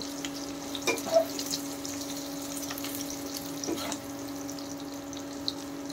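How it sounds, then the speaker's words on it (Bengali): Bay leaves and cumin frying in a little oil in a wok give a soft, steady sizzle under a constant background hum, with a few faint clicks and stirs. "কড়াইতে আমি আবার সামান্য একটু তেল দিয়ে দিলাম, ফোড়নে দিয়ে দিলাম আমি তেজপাতা আর জিরে"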